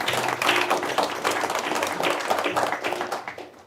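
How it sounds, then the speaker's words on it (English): An audience applauds at a keynote conversation event, steady clapping that holds for a few seconds before trailing off. "can we give Fred a round of applause,"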